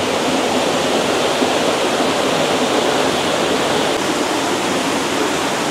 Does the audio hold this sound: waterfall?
yes